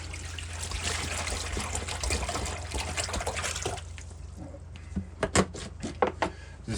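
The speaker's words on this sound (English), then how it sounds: "This is just hose water." Hose water runs into a newly installed sink as a steady trickle for about four seconds, then breaks into scattered, close individual drips and splashes.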